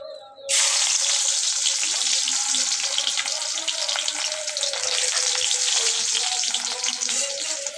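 Onions hit hot oil in a wok with a sudden, loud hiss that holds as a dense, steady sizzle throughout, close up.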